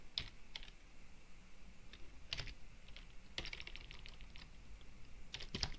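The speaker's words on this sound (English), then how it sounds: "and then type in administrator" Keystrokes on a computer keyboard while logging into a Windows Server 2008 R2 domain as administrator, coming in short scattered bursts of crisp clicks close to the mic over a faint hiss.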